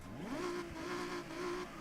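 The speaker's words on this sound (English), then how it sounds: "Then we've got sport exhaust." A car fitted with a sport exhaust in Forza Horizon 6 revs quickly upward and then sustains a strong, raspy engine drone, loud and close and heard alone.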